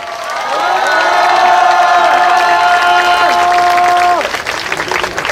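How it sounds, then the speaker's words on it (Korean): A loud crowd at an outdoor memorial rally cheers and whoops with sustained shouts, applause rising beneath and fading toward the end. "힘찬 박수 부탁드립니다."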